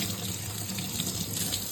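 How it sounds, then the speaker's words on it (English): Hands being washed under a running kitchen tap, a steady close splash of water pouring into a sink, continuous and fairly loud for a brief moment, with no voices. "let me just wash my hands right here."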